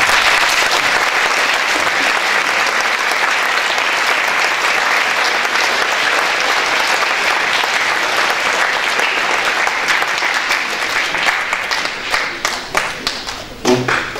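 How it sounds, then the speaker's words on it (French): An audience applauds students on stage at a school show, a loud, sustained roar of clapping that fades into scattered, separate claps near the end. "Je vous demande, s'il vous plaît, de les applaudir."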